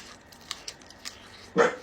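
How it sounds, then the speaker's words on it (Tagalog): A dog gives one short, sharp bark near the end, after a few faint taps and rustles in an otherwise quiet indoor room. "Ang ingay ng aso."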